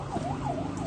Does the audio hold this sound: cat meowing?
no